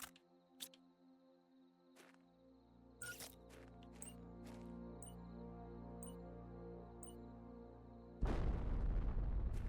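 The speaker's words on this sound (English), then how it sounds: "Let's drop a bomb here." Bomb dropped on a wreck in Planet Crafter, low hum and scattered electronic clicks building for several seconds before a sudden loud explosive burst near the end.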